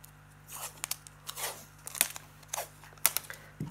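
Tape is pulled off a roll and torn in short, close bursts of stretching rasps and crisp ripping snaps, irregular and repeated over a low steady hum.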